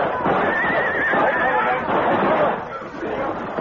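Horses whinny and neigh in an audio drama set on a canyon floor under rifle fire, the loud calls rising over a dense, chattering bustle with faint hoof clatter throughout.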